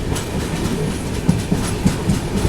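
A passenger train on the Sengottai to Tambaram run rolls along the rails, a close, continuous rumble with a regular clickety-clack of wheels crossing rail joints, no voices.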